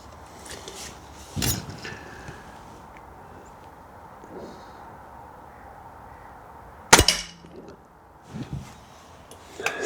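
An air rifle fires budget pellets during an accuracy test. Two sharp, isolated cracks stand several seconds apart against a quiet outdoor background, with small knocks and rustles between them.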